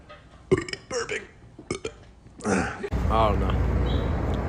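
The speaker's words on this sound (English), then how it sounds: "They're also burping." Loud, close burps from young men, a few short belches then a longer drawn-out one, with people talking around them.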